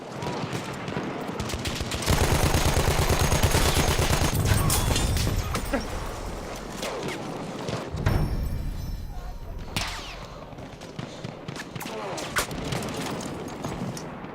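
Battlefield 1 gunfire fills the scene: steady rattling bursts and scattered shots, with a heavier stretch of rapid fire early on and more sporadic cracks later, while someone talks over the shooting.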